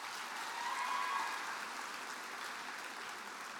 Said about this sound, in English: Let's give the Labette County FFA chapter another round of applause as they exit the stage.